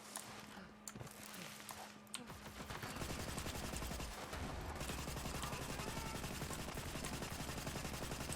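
Rapid automatic gunfire from The Magnificent weapon in Borderlands 3 rattles in a sustained, fast stream of shots, starting sparser and then firing continuously and loudly for several seconds.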